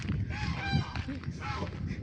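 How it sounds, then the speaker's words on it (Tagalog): Three geese honk repeatedly at close range, their loud, overlapping calls running continuously over a rough background. "Hindi naghiwala yung mga gansa. Oh. Ang iingay pa."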